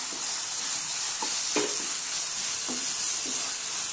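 Chopped ginger and garlic sizzle in hot oil for dal tarka, a steady bright hiss broken by several soft spatula scrapes and stirs, close and without speech.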